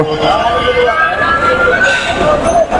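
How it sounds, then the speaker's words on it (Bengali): A loud ambulance siren wails while stuck in a heavy traffic jam on the Dhaka–Sylhet highway at a market, its rising and falling tone steady throughout, with voices and road noise mixed in. "আমরা দেখতে পাচ্ছি পিছনে একটি অ্যাম্বুলেন্স এখানে আটকে আছে"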